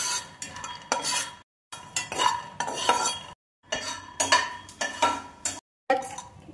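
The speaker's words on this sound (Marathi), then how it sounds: "भाजून घेऊ शेंगदाणे।" Peanuts are dry roasted in a pan and stirred in bursts, with scraping, rattling strokes separated by short pauses, close and moderately loud.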